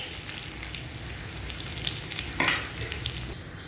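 Groundnuts and green chilies frying in oil for sabudana khichidi, a dense close sizzle with crackling pops and a sharp burst as more goes into the pan.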